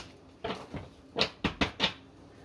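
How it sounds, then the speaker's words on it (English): Tarot cards being shuffled by hand, heard as a handful of close, crisp riffling bursts, two softer ones followed by four sharper snaps in quick succession, with no talking. "Let me do another shuffle."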